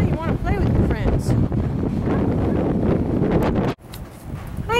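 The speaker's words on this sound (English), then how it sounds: "It's windy, Joey." Strong outdoor wind buffets the microphone at a horse and burro pen, a loud, continuous rumbling roar that drops out abruptly near the end, with a person talking over it.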